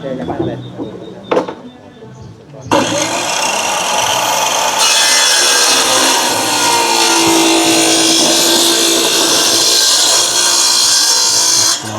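Steady, loud rasping of a hand saw cutting through wood, continuous for several seconds after a brief quieter start with light background noise.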